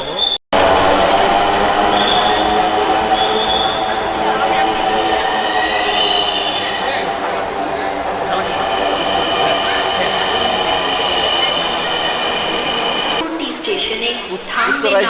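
A Dhaka Metro Rail train at a station platform gives off a steady, loud hum and rumble for the whole stretch, with a brief break near the start and a shift near the end, while people talk over it.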